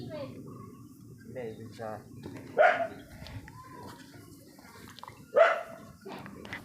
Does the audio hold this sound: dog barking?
yes